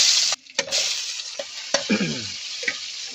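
Onion sautéing in a hot pan for adobong baki: a bright sizzle of frying, broken by several sharp clacks of a utensil stirring and scraping, all close and without talk.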